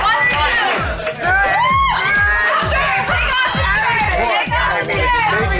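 A packed bar crowd screams, whoops and cheers continuously, a loud dense roar of excited voices with shouted calls rising above it and music thumping underneath.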